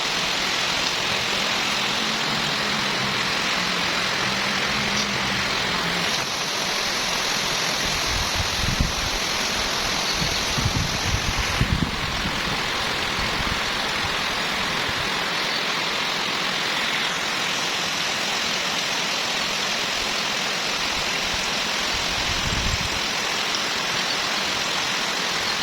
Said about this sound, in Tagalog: Ayan na nga, bumuhos ng malakas na ulan.